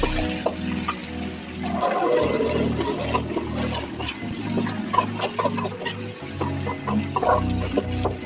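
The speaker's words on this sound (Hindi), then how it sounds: "अब मैंने डाल दिया प्याज के साथ थोड़ा नमक डाल दिया, प्याज डल जाएगा।" Chopped onion with a pinch of salt sizzles and crackles loudly in a hot pan, with scraping and stirring noises over a steady frying hiss, close by and without speech.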